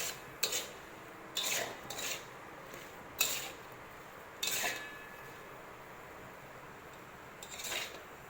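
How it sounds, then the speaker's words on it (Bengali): A spoon scrapes and stirs a coconut and sugar mixture in a pan, making separate rasping strokes at an uneven pace with quiet gaps between them. "এরকম নাড়িয়ে যেতে হবে, নাড়তেই হবে যাতে নিচে না লেগে যায়"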